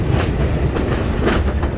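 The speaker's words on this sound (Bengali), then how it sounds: "আমরা দেখতে পাচ্ছি যে একটা ইঞ্জিন শুধু আসতেছে এটা অন্য কোনো একটা ট্রেনের সাথে সেট হয়ে যাবে" Lone railway locomotive engine rolling along the tracks on a cold day in Mymensingh, a loud close rumble with rhythmic clickety-clack of wheels.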